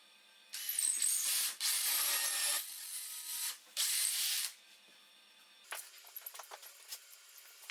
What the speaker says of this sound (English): Now the drilling.